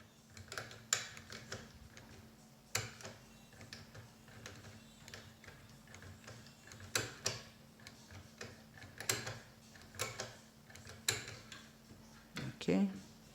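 A Prodecoder Automatic tool works a Guardian 4x4 lock, giving irregular sharp mechanical clicks and ticks close up over a steady low background.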